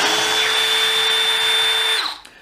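A cordless power drill, set to clutch 10, runs a steady high whine while backing screws out, loud and continuous for about two seconds before winding down.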